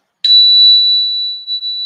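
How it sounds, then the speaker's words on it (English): A meditation bell is struck once, close and clear, then holds a pure, steady ringing tone that fades slowly over nearly two seconds in otherwise silent surroundings. "Breathing profoundly as you hear the sound of the bell"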